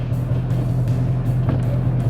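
A Mercedes-Benz CL500 drives along, its engine giving a steady loud low hum from inside the car.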